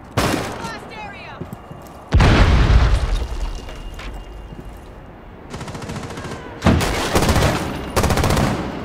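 A breaching charge detonates in Rainbow Six Siege during a skyscraper team deathmatch, a loud broad boom landing partway through, followed by further sharp blasts and bursts of gunfire, with players talking over the action.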